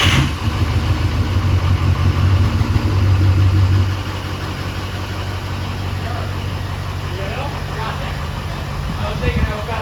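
A Ford 6.0 diesel pickup engine rumbles loudly at idle close by, heavier for the first few seconds before settling into a steady lower drone, with voices talking over it.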